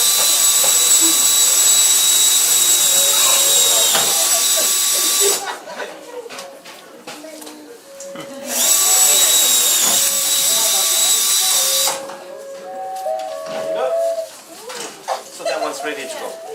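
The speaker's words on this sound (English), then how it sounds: "Then you drill the remaining holes." Holes being drilled in a Cook Islands nasal flute; two loud, sustained high-pitched drill whines, each lasting several seconds, separated and followed by quieter tool handling and a voice talking.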